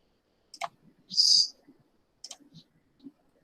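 Home key pressed on a computer keyboard, giving a sharp click near the start, a bright burst around the middle, and a few lighter taps afterward, all fairly faint in a quiet room.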